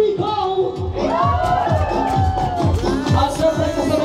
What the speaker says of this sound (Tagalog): malakas na palakpakan ng kasamang sigawan